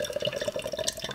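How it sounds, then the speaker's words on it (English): Short's Brewing nitro Irish stout is poured hard into a glass, making a close, continuous gurgling splash that bubbles steadily for about a second. "Maybe we'll go for a hard pour."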